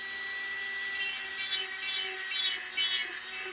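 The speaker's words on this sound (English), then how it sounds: "the mandrel here with the sander and just buff that right out" A rotary sander on a mandrel buffs the underside of carved wooden finch tail feathers, giving a steady, close whirring rasp with a constant motor whine throughout.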